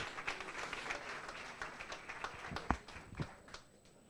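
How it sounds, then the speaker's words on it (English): Moderate applause from an audience at a business strategy workshop in Bochabelo, Free State, honoring a speaker. Scattered sharp claps rise over a quieter bed and taper off near the end. "One more time, ladies and gentlemen, round of applause for Dr."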